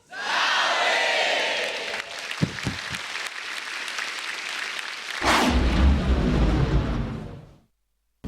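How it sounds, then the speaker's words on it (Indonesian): A stand-up comedy show crowd in Indonesia bursts into loud applause and cheering, with a roaring swell partway through, then a deep rumbling surge before the noise fades out near the end. "Berikan tepuk tangan untuk"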